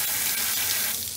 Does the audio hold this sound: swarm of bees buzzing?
no